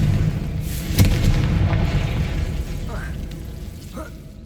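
A fire spell explosion in the Hogwarts Legacy video game, a low booming burst near the start that rumbles on and fades, with a voice casting the spell.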